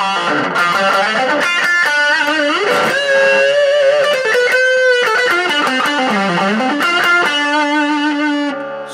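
Electric guitar played through an Orange mini tube amp with reverb and delay, sustained chords and melodic notes ringing continuously and loud with a gritty edge, no talking over it.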